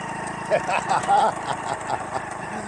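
A Chinese Honda Chaly clone motorbike rides off-road, its small engine droning steadily at close range under a talking voice.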